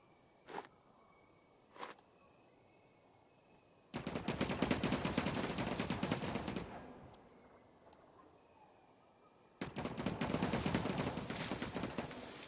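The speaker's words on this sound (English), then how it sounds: "Someone's shooting" Bursts of rapid automatic gunfire in a video game, two sharp single shots first, then two sustained loud volleys of several seconds each with quieter gaps between.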